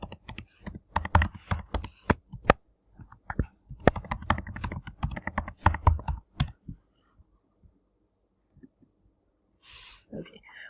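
Someone types a login password on a computer keyboard, in fast, close bursts of clacking keystrokes with short pauses, then a few scattered taps and a faint breath near the end.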